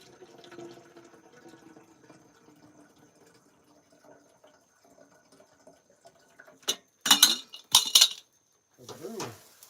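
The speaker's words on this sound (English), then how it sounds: "So let's transfer that into the proper kettle." Water is poured from a pot into a kettle beside a propane grill outdoors, with metal clinks and a few short splashing bursts near the end after a stretch of quiet clatter.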